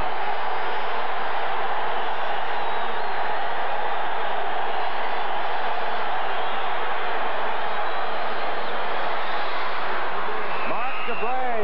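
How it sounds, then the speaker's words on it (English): A noisy football stadium crowd roars steadily at a 1983 Winnipeg Blue Bombers home game against the BC Lions, a dense, continuous wash of cheering that fills the whole stretch without letting up. "I'll tell you, this crowd is noisy now."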